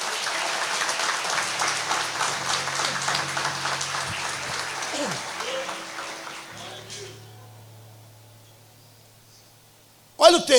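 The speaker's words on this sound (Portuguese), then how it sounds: "Aplauda Jesus pela vida natalina." A church congregation claps during a sermon by a pastor, sustained, moderately loud applause with a few voices under it that fades out after about seven seconds into near silence, then a brief sharp noise at the end.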